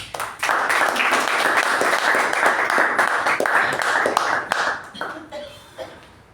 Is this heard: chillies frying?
no